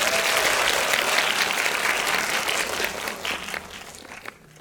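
A cinema audience at a film Q&A event claps loudly in a dense, sustained burst of applause that fades out over the last second.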